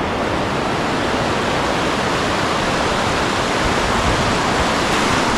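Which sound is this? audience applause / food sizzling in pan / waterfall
waterfall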